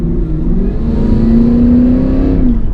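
A 2024 Cadillac Escalade V's large V8 engine, in its quietest sound setting, revs under heavy throttle, its deep rising drone swelling steadily and then easing off, close and fairly loud.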